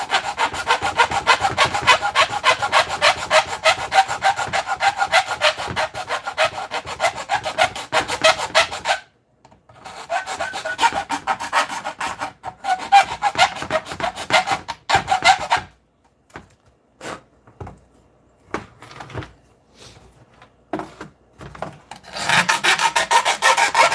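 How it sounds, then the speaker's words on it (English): Metal being worked with a hand file or rasp, loud rhythmic rasping strokes repeating quickly, then breaking into scattered short scrapes and silences before resuming strongly at the end. "all the painful fucking filing out the way"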